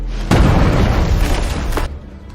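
A grenade explosion in an action-film fight inside an unfinished church bursts out suddenly as a loud, deep boom, rumbling for over a second before dying away, with a sharp secondary crack near its tail.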